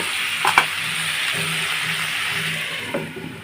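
Chicken pieces sauté in a pan for biryani, producing a continuous close sizzle broken by a few scraping stirs.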